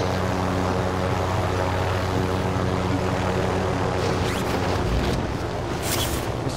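A propeller airplane engine in a video game drones loudly and continuously, a close, even roar with little variation.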